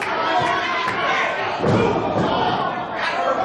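A sold-out wrestling crowd roars and chatters steadily in an arena, with thuds from the ring rising now and then and a commentator's voice running over the noise.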